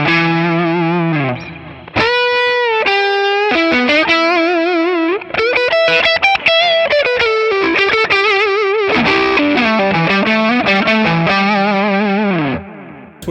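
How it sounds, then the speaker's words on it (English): An electric guitar played through a ToneX classic overdrive tone with delay, loud sustained lead notes and bends with echoing repeats, continuous for about eleven seconds before cutting off. "Let's engage a little bit of delay here."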